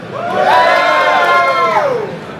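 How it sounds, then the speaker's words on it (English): A crowd cheering and whooping for the Super Nintendo at a live console-wars event, a loud sustained roar of voices rising and fading over about two seconds, mostly children and adults together. "So let's have a cheer for the Super Nintendo"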